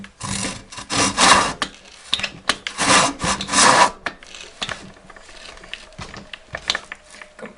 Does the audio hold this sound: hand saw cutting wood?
yes